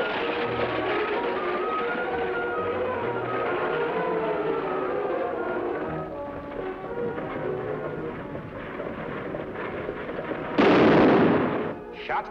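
A single loud gunshot bursts out near the end of an old Western radio-style drama scene, following a long stretch of dense music and background noise, then fades quickly.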